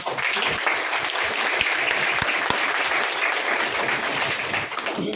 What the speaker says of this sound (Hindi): मैं चाहूंगा एक जोरदार तालियां